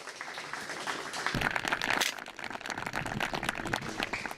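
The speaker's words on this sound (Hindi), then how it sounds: "जोरदार तालियां इनके लिए बजाइए" A studio audience claps for a winning contestant on a televised farmers' quiz show about sugarcane farming, giving a soft, scattered patter that swells briefly in the middle and then settles into light, continuous clapping.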